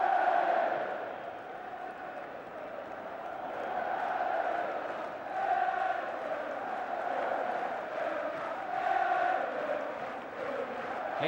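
Large stadium crowd at an Arsenal cup celebration cheering for Ian Wright, a steady roar swelling and easing in waves, distant and diffuse, with faint commentary underneath.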